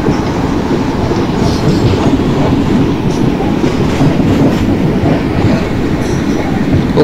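Simulated passenger train in Open Rails running steadily near Bagoda station on an Indian railway route, a continuous loud rumble with rail clatter throughout and no speech.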